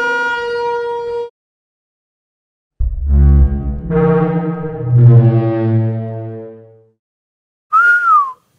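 A cartoon dinosaur's deep, resonant horn-like crest call with strong harmonics sounds twice, separated by silence, followed by a brief higher whistling cry that bends downward.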